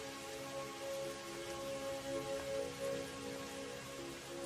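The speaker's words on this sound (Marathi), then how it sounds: "आला बघ तुझा लाडका पाऊस" Steady, even rain hissing continuously at a moderate distance, with no voices and no breaks.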